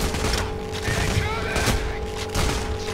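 Bursts of gunfire ring out in the heist shooter video game Payday The Heist, a dense rattling fusillade of repeated shots with game sound effects running continuously throughout.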